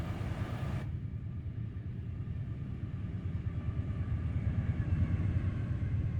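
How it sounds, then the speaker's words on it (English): A train rumbles past in American Truck Simulator, a steady low drone that swells gradually louder over several seconds with no talking. "Oh, another train coming through. I can hear it."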